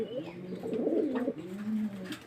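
Fancy pigeons on a pigeon farm in Faridpur coo in a short rolling burst, close and fairly soft, with a brief quieter coo following.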